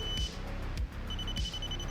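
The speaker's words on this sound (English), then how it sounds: "Once you hold the trigger down, you should hear a beep." A CQB gel blaster emits a faint, thin electronic beep while its trigger is held to select firing mode, heard in two short tones over a low background rumble with soft thumps.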